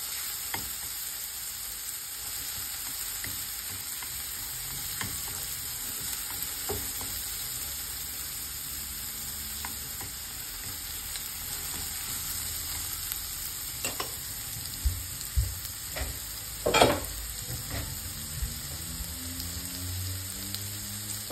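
Steak searing in a hot pan, a continuous dense crackling sizzle with scattered pops and occasional scraping or stirring sounds, close and steady for the whole stretch, no voices.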